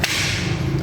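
A single sharp crack from a P01 MR air rifle, loud and close, ending in a brief thud.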